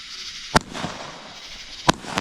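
A 7-shot budget firework cake on the Fourth of July fires two sharp, loud bursts about a second and a half apart over a steady outdoor hiss, with no voices.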